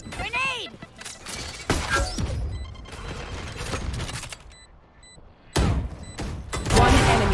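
A grenade blast in the tactical shooter Valorant lands amid bursts of gunfire and impact sounds, with loud sharp hits and quieter gaps while players talk excitedly over the action.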